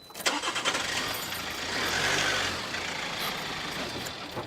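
Car engine idling and revving as an average-sized family car is pulled back a short way from a roller shutter garage door in a driveway; steady mid-range engine drone with a slight swell in the middle, close by and alone.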